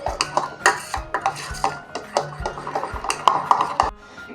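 Utensils scrape and clink against a bowl in a steady stirring rhythm, mixing water or milk into a lump-free batter, close and fairly loud, with no talking.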